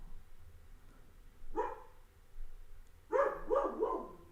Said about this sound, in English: My dog is really getting annoying though.